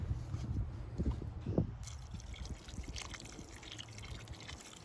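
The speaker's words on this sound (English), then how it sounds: "Because I need it to cook a little longer, I'm going to put more water." Water poured into a cooking pot at a deer camp, a close trickling, splashing pour with small drips, louder at the start and then settling into a softer, steady dribble.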